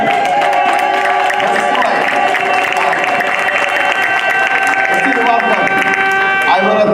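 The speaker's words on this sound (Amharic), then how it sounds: "እስቲ ወደ ሌሎች ጭብጨባ አስገቡ ለእግዚአብሔር።" A church congregation claps for God, a dense, loud, continuous wash of applause with cheering and voices running throughout, close and full.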